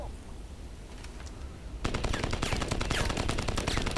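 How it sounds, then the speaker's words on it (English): Gunfire from a shotgun in the Crysis PC game: a quieter stretch with scattered reports, then from about two seconds a loud, dense run of rapid shots, close and alone with no talk. "this is some kind of shotgun"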